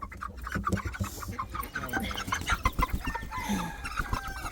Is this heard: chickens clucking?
yes